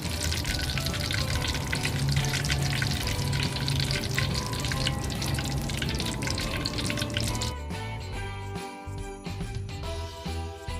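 Kaffir lime leaves deep-frying in hot oil, a dense, steady crackle and hiss that stays loud throughout and thins slightly toward the end.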